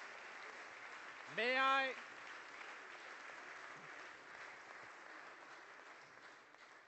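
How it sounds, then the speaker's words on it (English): Conference audience applauding after a speech on transforming energy systems, a steady moderately distant clapping throughout, briefly interrupted by a voice speaking over it. "thank you, everybody, for the applause"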